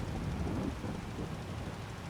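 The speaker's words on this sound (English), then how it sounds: "listen to that thunder." A deep, continuous rumble of thunder in Farming Simulator 22 rolls on with a broad wash of storm noise, steady and heavy, no voices.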